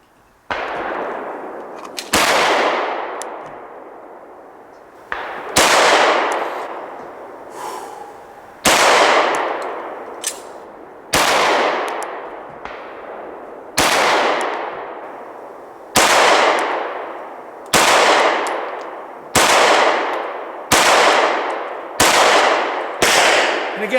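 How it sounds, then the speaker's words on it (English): H&K P30L 9mm pistol with an LEM trigger fired at an outdoor range, about a dozen sharp, loud single shots with ringing decay, spaced unevenly and quickening toward the end. "Let's shoot right now."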